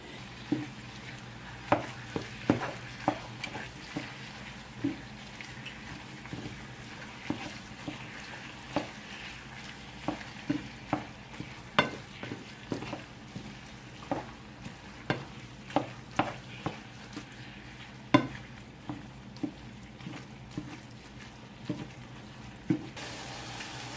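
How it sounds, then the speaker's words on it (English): Spaghetti sauce simmers in a pot while a spoon stirs it, with a low steady bubbling bed broken by repeated sharp clinks and scrapes of utensil against cookware. "All you got to do is dump everything in and let that sauce simmer"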